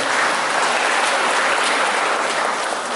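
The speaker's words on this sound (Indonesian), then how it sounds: "Tepuk tangan untuk para pengajar praktek." Dense, loud applause from an audience honouring practice teachers at a formal education gathering, an unbroken wash of many hands clapping at once with no speech over it.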